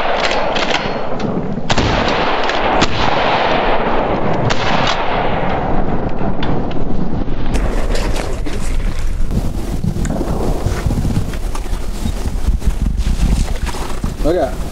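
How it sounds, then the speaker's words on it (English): Beretta A300 Outlander semi-automatic shotgun firing outdoors, loud repeated blasts mixed with wind buffeting the microphone, with voices talking throughout. "here's a few more clips of the Beretta A300 in action"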